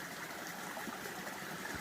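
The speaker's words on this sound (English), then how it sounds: "So this is a stream right past the cobbles heading SOBO" A small woodland stream with tea-coloured, tannin-stained water runs past cobbles on a Massachusetts hiking trail, giving a steady, continuous trickling wash that stays even and moderately close throughout, with no voices.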